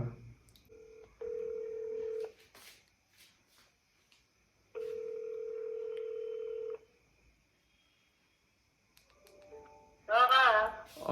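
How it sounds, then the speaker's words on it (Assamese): Touch-tone keypad dialing a call on a telephone, heard as a faint tone, then two long steady dial tones each lasting about two seconds, separated by quiet room sound, with a brief burst of voice and clatter near the end. "মই একবাৰ মাক ফোন কৰি লওঁ"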